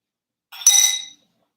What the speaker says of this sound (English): metal straw in the glass is not cute